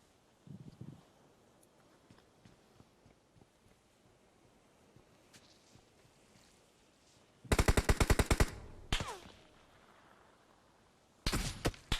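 Automatic gunfire in PUBG Mobile, two loud rapid bursts separated by quiet stretches, with soft wind-like background noise.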